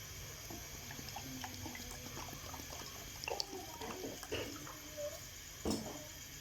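Water runs from a tap into a cooking pot for Karachi-style beef nihari, with a soft steady splashing stream and scattered clinks of utensils. No voices are heard.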